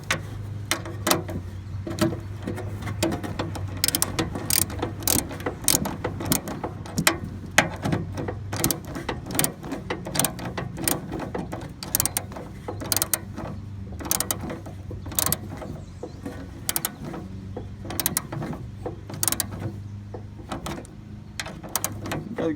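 Ratchet clicking in quick bursts while snugging down the top connectors of a starter solenoid on a riding lawn mower, close and fairly quiet, with other small mechanical clatter between strokes.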